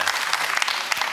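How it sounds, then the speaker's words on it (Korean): Studio audience on a Korean TV quiz show bursts into steady, dense applause, loud and close with crisp overlapping claps throughout and no voices over it. "이 큰 박수는 무슨 의미입니까?"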